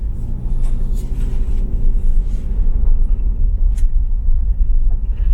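A 2020 Toyota 4Runner TRD Off Road cruises along the road, its steady low engine and road rumble loud and continuous from the cabin, with no talking.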